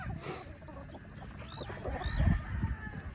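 Soft, low clucking from a hen on a farm in a quiet outdoor setting, with faint background birds and ambient noise.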